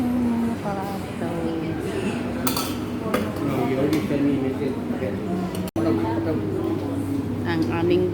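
Food is served onto plates at a birthday meal, with repeated clinks and scrapes of dishes and cutlery close by while people talk over the clatter.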